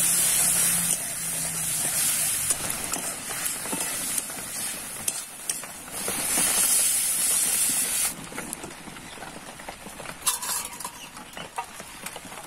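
A curry cooking in a pot with bay leaf, Bengali five-spice and tomato, a close hissing sizzle with occasional stirring scrapes and clinks that rises and falls.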